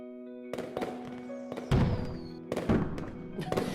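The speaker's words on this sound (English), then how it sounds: "I didn't even know we could expect a fireworks show." Video-game fireworks at the end of a night, a series of sharp bangs and crackling bursts at irregular intervals over a sustained musical tone, mid-distance and moderately loud.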